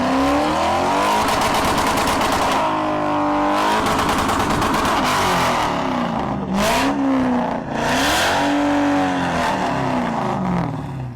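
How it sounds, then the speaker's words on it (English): A straight-piped car engine revs hard again and again, bouncing off the rev limiter with a rapid stuttering crackle; the sound is loud and close, rising and falling in sweeping pitch. "me revving it, hitting rev limiter"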